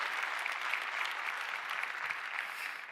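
Indoor audience applauding a church service team, dense steady clapping from many hands filling the room at even loudness throughout.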